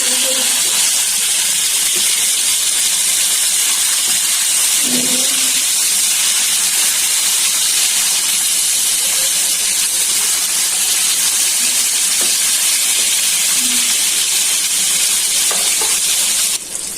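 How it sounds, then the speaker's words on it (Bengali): Rohu fish pieces frying in hot oil give a steady, loud, dense sizzle that runs unbroken throughout, with a few faint utensil touches beneath and no talking. "মাছগুলো ভালো করে ভাজা হয়ে যায়।"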